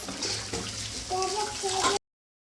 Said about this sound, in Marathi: ह्या चाळणीमध्ये मी उपसून घेते हे उपसून घ्यायचे